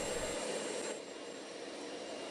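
A passenger plane lands at Haji Hasan Sampit airport, its jet engines giving a steady, loud broadband roar with no voices.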